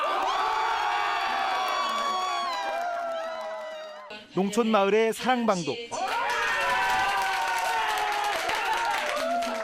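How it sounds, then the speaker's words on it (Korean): Crowd of people cheering and clapping at the impeachment verdict of President Park Geun-hye, a steady wash of shouts and applause, broken midway by a news narrator's voice before the cheering resumes. "고3 수험생 교실에서도 환호와 함성이 쏟아졌습니다"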